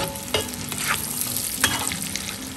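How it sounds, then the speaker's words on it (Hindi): Onions frying in oil over full flame, a steady close sizzle with a few scraping stirs of the spoon, no voices. "ये प्याज फ्राई होती है"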